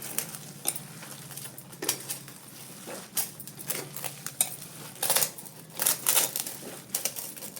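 Fish cutlet mixture being mixed by hand in a bowl, with repeated soft clinks and scrapes against the dish at an uneven rhythm, close and moderately loud, no talking.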